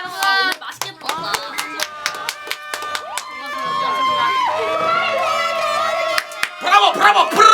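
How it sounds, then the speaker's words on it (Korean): An audience applauds after a song at a concert, with bursts of clapping mixed with cheers and a voice talking over the crowd. "박수 한번 부탁드립니다, 여러분."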